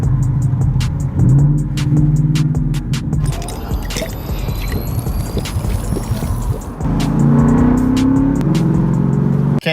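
A Ford Mustang 5.0 on the road, its low engine drone steady inside the cabin, rising briefly with acceleration, with road rumble and faint rattles.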